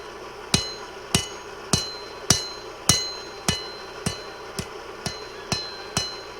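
A blacksmith's hammer strikes hot rebar on an anvil, drawing out a tent-stake tang: about a dozen sharp, ringing blows at a steady, even pace, close and clear with no talk.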